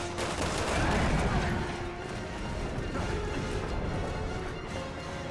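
Rapid gunfire rattles on steadily in Resident Evil 6 as shots are unloaded at an enemy, forming a dense, loud, continuous barrage with a voice talking over it.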